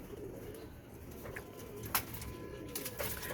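Pigeons coo softly nearby in low, murmuring bursts, with a few faint clicks and rustles in the background.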